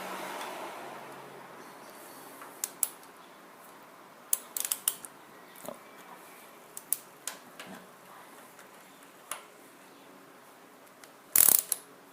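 Torque wrench with an 8 mm hex bit tightening a motorcycle front wheel to 45 Nm, scattered sharp ratcheting clicks and metallic ticks in close quiet, ending in a louder burst.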